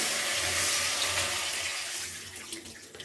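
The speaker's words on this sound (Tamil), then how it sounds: "இப்போ நம்ம வச்சுருக்கிற இந்த அருகம்புல் ஜூஸ் இதில் சேர்த்துக்கலாம்." Arugampul grass juice poured into a pan of gravy, a steady close splashing pour that tapers off near the end, with no talk.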